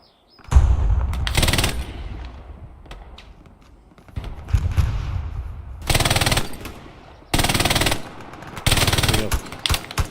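Bursts of machine gun fire in a World War II shooter game, loud rattling volleys of a second or so separated by quieter gaps with distant shots and rumble, no talk.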